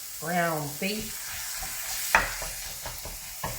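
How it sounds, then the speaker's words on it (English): Minced beef sizzling in a frying pan while being stirred, with soft scraping strokes and crackles under a steady hiss, fairly quiet and close, with a brief voice near the start. "Bonus tip regarding minced beef, or if you're North American, ground beef."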